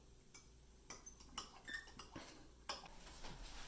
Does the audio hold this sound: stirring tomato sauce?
yes